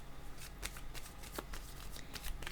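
Tarot cards shuffled by hand, a quick run of soft riffling flicks and slaps close up, quiet and without talk.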